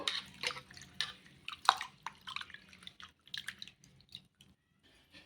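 Water drained off washed, soaked rava (semolina) for idli pours and drips in irregular splashy bursts, close by, tapering into scattered drips toward the end, with no talking.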